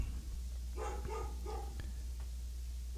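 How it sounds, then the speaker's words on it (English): A dog barks a few times in the background, with short muffled yips over a steady low hum. "My dog's barking."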